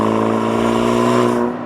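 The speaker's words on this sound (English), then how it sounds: "The exhaust note under load, I like it." A 2023 Maserati Grecale Modena's engine drones under load, a steady, loud, harmonic exhaust tone held for a moment before easing off at the end.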